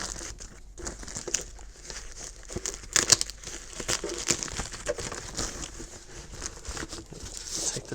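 Close crinkling and tearing of tape and wrapping as a Synology DS918+ NAS box is opened from its taped bottom, with bursts of ripping and rustling.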